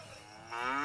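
A single cow lets out a drawn-out moo that swells louder halfway through, heard alone and close with no talking.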